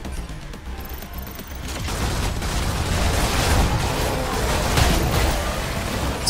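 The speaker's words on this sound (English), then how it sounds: "Stupid explosions." Explosions rumble and crackle in the Stellar Blade video game, a dense, continuous barrage of booms that swells louder after the first couple of seconds and stays heavy throughout.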